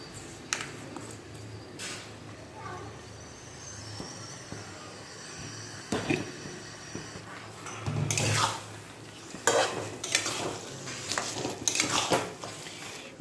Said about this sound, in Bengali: এবারে ম্যারিনেট করা মাংস কিন্তু আমি দিয়ে দিলাম